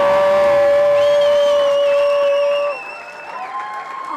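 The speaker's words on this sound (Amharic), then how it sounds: "እባካችሁ አጨብጭቡ።" An audience at a recognition ceremony applauding, crowd clapping and some cheering under a sustained musical tone that fades after a few seconds, with the applause then continuing more softly.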